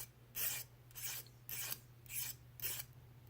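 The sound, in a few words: mill bastard file deburring metal tool edges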